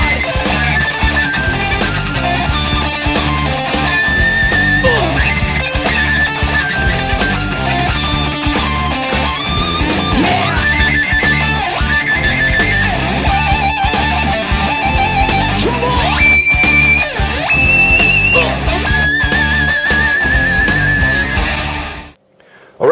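A loud, dense rock band plays Rage Against the Machine's "Killing In The Name" as a sustained lead guitar solo soars and bends above the rhythm section, continuous until it cuts off abruptly.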